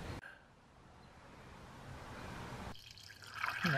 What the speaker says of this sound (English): Put in coolant.